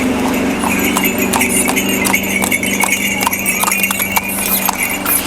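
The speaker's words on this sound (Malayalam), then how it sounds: "ഇത് അതിനേക്കാൾ കുറച്ചുകൂടി വലിയ കുതിര അല്ലേ?" A horse's hooves clip-clop in a clear, uneven rhythm at a camping spot, the sharp knocks of a large horse ringing out close by over a steady low background hum.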